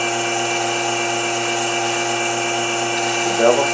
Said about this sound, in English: By shear cut, I'm riding the bevel and just cutting on the bottom edge here.